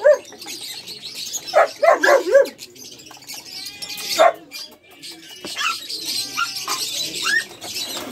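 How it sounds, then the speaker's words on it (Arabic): A dog barks in a few short, sharp bursts near the start and middle while food is prepared for dogs and kittens. Light bird-like chirps and household clatter fill the quieter stretches. "هو الكلب واصل"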